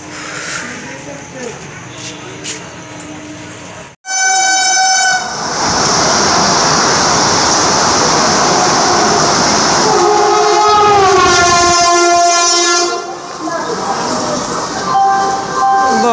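A Vande Bharat express train rushes past close by with a loud, sustained roar, repeated blaring horn blasts and rail clatter, after a quieter stretch of background chatter and voices nearby.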